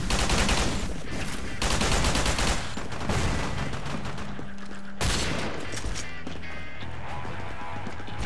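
Gunfire in the online shooter GunZ 2, with rapid, dense volleys of shots crackling in bursts over busy game sound, pausing briefly midway before resuming.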